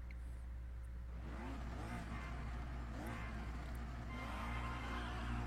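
A small sporty Honda car engine in a racing video game, steady and loud throughout, rising in pitch with repeated revving surges over a constant low drone, with no one talking.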